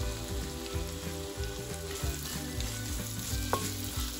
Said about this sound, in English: I'm going to definitely be sauteing this